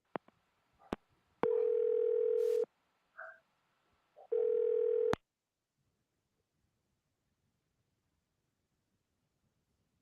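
Telephone call in progress, with a few clicks followed by two separate bursts of a steady electronic tone, each roughly a second long, split by short blips, and then silence.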